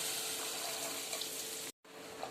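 Water pours into a pan of fish curry masala as broth is added, giving a steady broadband rush and splash for almost two seconds. A brief silent gap follows, then the splashing resumes.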